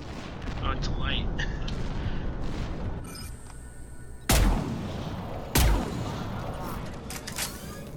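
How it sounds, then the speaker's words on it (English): Automated turrets fire in the game Mass Effect 3 with a sustained rattle of gunfire broken by two heavy, loud blasts. Voices are heard at times. "I really dislike turrets"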